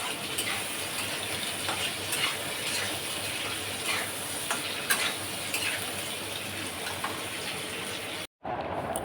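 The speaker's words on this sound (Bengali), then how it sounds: "উচ্ছেটাকে তেলের মধ্যে দিয়ে একটু নুন হলুদ আর কাশ্মীরি লঙ্কার গুঁড়ো দিয়ে ভালো করে" Bitter gourd pieces frying in oil with salt, turmeric and Kashmiri chilli powder give a steady close sizzle with faint scraping clicks, briefly cut to near silence toward the end.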